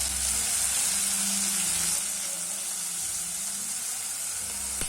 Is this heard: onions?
yes